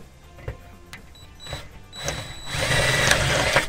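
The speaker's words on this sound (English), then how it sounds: "You're going to have to drill a hole." A small drill whirs in short bursts while enlarging an existing hole on a VW bus, then runs steadily louder toward the end, close and alone.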